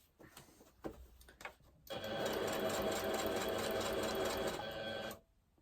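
A sewing machine runs along the tops of a fabric shopping bag: a few light clicks and taps, then a steady, rapid mechanical whir for about three seconds that stops abruptly.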